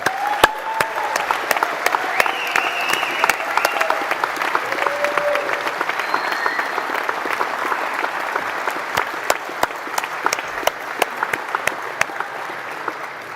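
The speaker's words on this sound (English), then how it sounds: "let's give them a round of applause again" Sustained round of applause from a large audience at a university graduation ceremony, steady dense clapping filling the hall with occasional sharper claps, continuing without a break.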